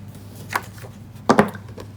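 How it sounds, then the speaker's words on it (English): A rubber stamp is pressed down onto paper in a card-making session with Stampin' Write Markers, giving two short, close, dull knocks. The second knock is firmer and doubled. "And let's just stamp that down."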